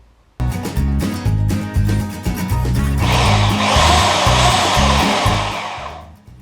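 A power saw, handled like a stiffer reciprocating saw, cuts a door opening in a budget workshop wall: close, loud rhythmic chugging, then sustained buzzing, rasping cutting that fades out.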